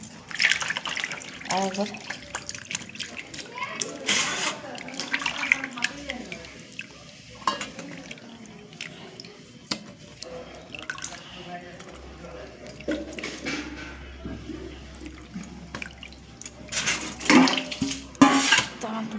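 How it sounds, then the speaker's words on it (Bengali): Fish being rinsed by hand in a sink under a running tap, with steady water splashing, clinking of a metal bowl and dishes, and someone speaking briefly over it. "ভালো করে ধুয়ে নিই"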